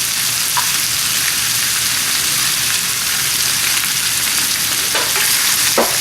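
Onions, green beans and zucchini sizzling loudly in a big cast iron pan, a dense continuous hiss close by with a few brief scrapes of stirring.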